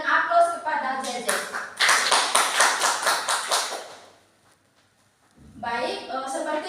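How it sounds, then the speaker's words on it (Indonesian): A classroom audience applauds a student during a microteaching lesson on cells, with a burst of steady rhythmic clapping of about two seconds set between stretches of a teacher's speech. "Mari kita berikan aplaus kepada JJ"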